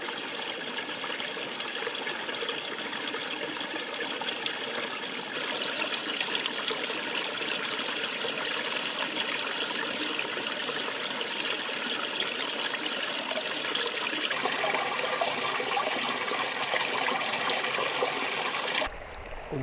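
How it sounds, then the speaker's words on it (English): A steady rushing waterfall at the back of a mountain corrie in the Corraun Hills, Mayo, roars continuously and close, a broad unbroken wash of falling water with no voices. "I'm climbing up the waterfall at the back of the corrie, and the sound of this has sort of soothed me a wee bit through the night."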